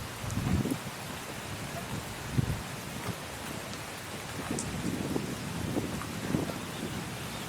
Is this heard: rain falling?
yes